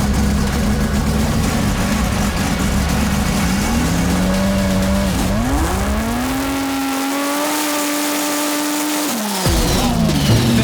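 A drag race car on a dyno launching on nitrous with a trans brake, a loud close engine roaring and climbing in pitch through several surges, then cutting off abruptly before revving again.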